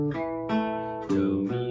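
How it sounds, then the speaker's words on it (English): Guitar arpeggio of a 6/9 chord, notes plucked one after another and left ringing into each other, close and moderately soft. "So the arpeggio is going to sound like this."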